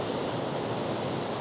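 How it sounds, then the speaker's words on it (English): Yellowish water pouring over a ledge at Acharn Falls, a loud, steady broadband roar with no breaks, heard close up and alone. "I quite like the way the water, that yellowy water's pouring over the edge there"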